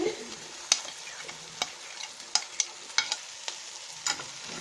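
Potatoes and ketchup stirred in a frying pan, with a soft continuous sizzle punctuated by sharp, irregular clinks and scrapes of a utensil against the pan, close up.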